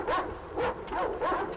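A dog in the Metro Exodus video game barks and whimpers in repeated yelping bursts, three or four rising whines at close range, fairly quiet and with no talk over them.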